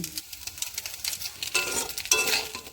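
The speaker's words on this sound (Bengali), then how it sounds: "চাউমিনটা লবণ দিয়ে ভালো করে নাড়া দিয়ে নিলাম" Chow mein being stirred with salt in a home kitchen pan, giving soft scraping and rustling strokes that grow louder and busier in the second half, with no voices.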